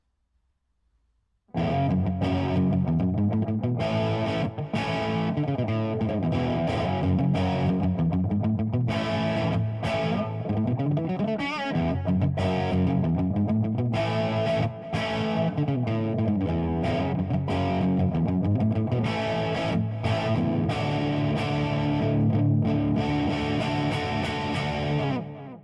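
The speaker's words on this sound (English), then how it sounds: "I'm going to drop to my bridge pickup with the switch down, and let's change to the lead channel on the amp" A Texas by Quincy Flying V-style electric guitar on its bridge pickup plays through the amp's distorted lead channel, with loud, sustained overdriven notes and bends that run without a break and cut off sharply at the end.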